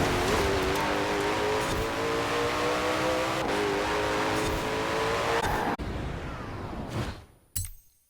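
A Koenigsegg Jesko in Forza Horizon 4 drives with a loud, steady engine drone and a rising harmonic whine. The engine noise cuts off abruptly, followed by a sharp, crashing burst near the end.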